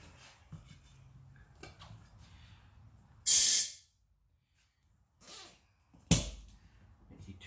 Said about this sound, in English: Nope, there's air right here leaking out.